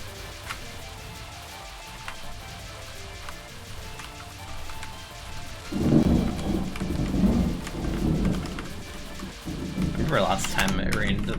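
A thunderstorm outside with heavy rain and wind: steady rainfall hisses throughout while deep rolling thunder rumbles swell midway and again near the end, sounding fairly close.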